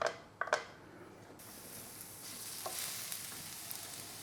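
Diced onions frying in a pan for a ragu Bolognese, a steady hiss of sizzling after a couple of sharp clatters as they go in, close and fairly quiet.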